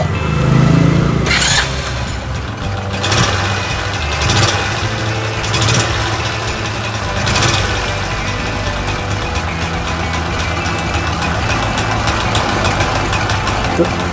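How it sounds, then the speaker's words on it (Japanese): A Honda Super Cub motorcycle engine idles steadily while warming up, a continuous mid-pitched running note with a few sharper knocks early on, close and fairly loud throughout. "エンジン温めます"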